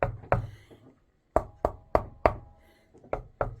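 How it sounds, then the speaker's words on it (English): Knuckles rapping on a wooden guitar body, like knocking on a door, in short hollow knocks: a pair, then a pause, then a quick series of four and a few more, close and clear with no talk. "When you can knock on it with your hands, and you'll really, it's like knocking on a door."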